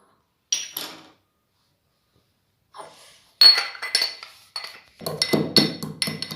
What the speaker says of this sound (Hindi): अब मैं ना ये काली मिर्च अच्छे से कूट डालूंगी।